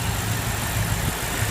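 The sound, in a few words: BMW M5 F10 4.4 liter V8 engine idling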